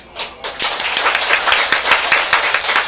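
At a church gathering, an audience breaks into applause. Dense, lively clapping starts after a brief quiet moment and carries on steadily at close range.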